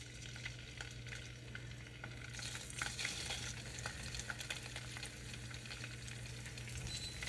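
Shrimp frying in a pan for Kapampangan pancit luglog, a steady crackling sizzle with a low stove hum beneath, close and continuous with no talk.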